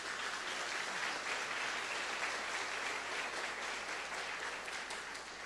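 Church congregation applauding, a steady, even wash of many hands clapping at once, sustained and moderately distant throughout with no break.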